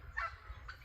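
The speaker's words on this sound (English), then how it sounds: "We raise heritage breed bourbon reds here, and so that's some of them from last year." Bourbon Red heritage breed turkeys give two short honking calls, faint and a little distant over a low background rumble.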